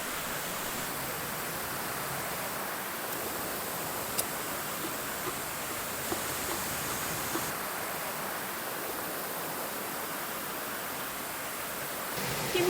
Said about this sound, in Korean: 쉼터 옆으로는 계곡물이 흐르는데요. 시원한 계곡 물소리를 듣고